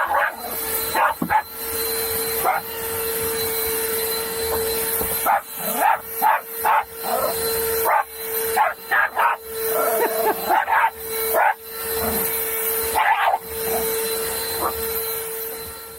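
A Hoover vacuum cleaner running aboard a narrowboat gives a steady, loud drone, while Hector the dog barks again and again in sharp bursts over it, sometimes in quick clusters.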